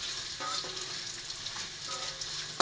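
Garlic, cumin and fenugreek sizzle in hot oil in a pan for a fish curry, a steady close crackling hiss with faint stirring scrapes and a sharper pop at the end.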